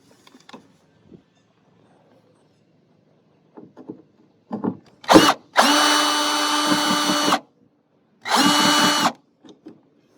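A power drill or impact driver backs out the bolts holding a Toyota Sienna sliding door, with a short burst followed by a longer whir of about two seconds, a pause, then another brief burst, close up among faint clicks and handling.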